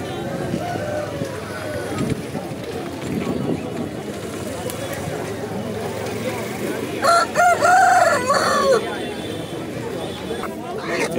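A rooster crows loudly near the end, cutting through background chatter and crowd noise of a busy outdoor Sunday pet market in Erragadda, Hyderabad.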